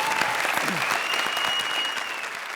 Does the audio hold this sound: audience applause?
yes